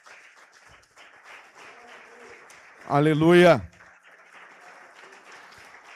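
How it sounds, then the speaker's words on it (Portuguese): A church congregation at a Sunday service bursts into a short, loud round of applause and cheering lasting about a second, with voices rising over the clapping, set against quieter talk before and after. "Você pode levantar a mão no lugar mais alto que você puder e aplaudir esse Deus em nome de Jesus."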